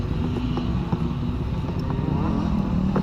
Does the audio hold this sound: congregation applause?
no